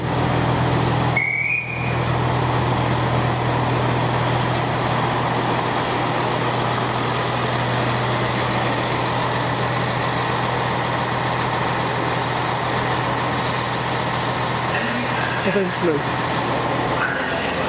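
East Midlands train at Sheffield railway station, a steady low engine drone with a sharp brief whistle-like tone near the start, heard amid station ambience with some speech.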